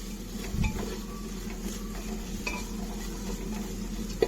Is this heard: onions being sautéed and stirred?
yes